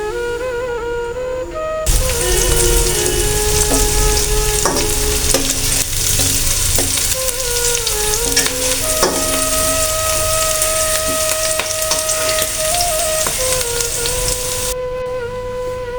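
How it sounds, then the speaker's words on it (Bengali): Onions and chillies fry in hot oil in a wok, giving a loud, steady, crackling sizzle that starts abruptly and runs continuously for most of the clip before cutting off near the end. "এখানে আমার পেঁয়াজ ভাজা হয়ে গেছে।"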